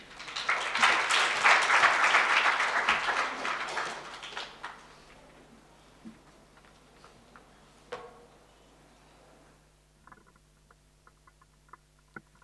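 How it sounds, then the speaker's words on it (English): An audience at a career expo breaks into a dense burst of clapping that lasts about four seconds and then fades to a few scattered claps and faint room noise. "Let's give Philip another round of applause, please"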